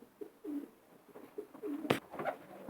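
Long-distance racing pigeons, a breeding pair, coo in several soft, low repeated phrases close by, with a brief sharp knock partway through.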